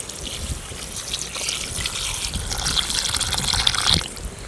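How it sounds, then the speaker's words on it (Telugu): Water pours and splashes into a pot of mutton curry in a steady gush that swells slightly louder toward the end. "తగినన్ని వాటర్ యాడ్ చేసుకుందాం."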